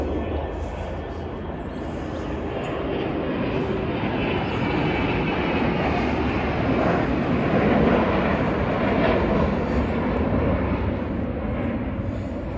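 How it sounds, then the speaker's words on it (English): A plane passes overhead above a quiet stretch of the Basingstoke Canal in cold weather, a broad, distant engine roar swelling slowly and lingering steadily, with faint talk beneath it. "Oh, comes another plane."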